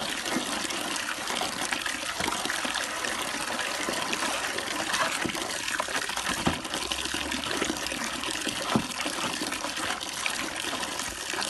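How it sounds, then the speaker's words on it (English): Tap water runs steadily through a container of wood ash for making lye water, a constant close rushing and gushing flow with a few small splashes, no voices over it. "So I'll run the tap some more."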